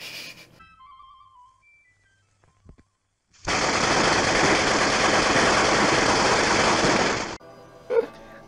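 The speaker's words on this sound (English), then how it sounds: "you can hear in the background a machine gun going off" Machine gun fire from a film's opening scene, a dense continuous rattling burst lasting several seconds that starts and stops abruptly after a quiet stretch with faint tones.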